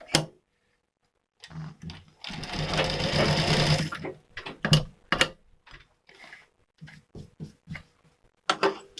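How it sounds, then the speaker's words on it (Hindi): A sewing machine stitching a Katori cut blouse, running in bursts of rapid mechanical clatter: one long close run followed by several short, choppy runs separated by brief pauses. "अब इसको हम सिलाई लगा लेंगे इस प्रकार से। इसको बराबर से सिलाई कर लेंगे।"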